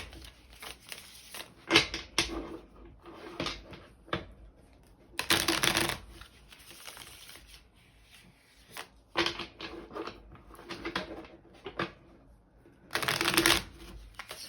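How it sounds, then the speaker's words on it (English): Tarot cards being shuffled by hand in repeated bursts, crisp riffling and sliding close to the listener, separated by brief quiet pauses, with no talking. "So satisfying shuffling."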